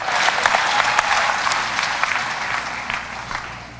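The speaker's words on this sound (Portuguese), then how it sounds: "Adorem a Ele com um aplauso." A worship congregation in church applauds together in praise, a dense, loud, continuous clapping that stays full for a few seconds and tapers slightly toward the end.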